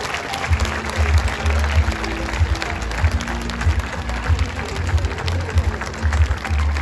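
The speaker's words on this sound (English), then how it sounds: "give them a huge round of applause" An audience applauds at an event, a steady dense wash of clapping held at even loudness with some low rumble beneath, with no talk over it.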